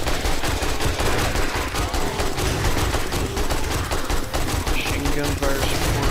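Rapid bursts of machine gun fire rattle continuously in the 7 Days to Die console game, loud and dense from start to finish with barely a pause between rounds.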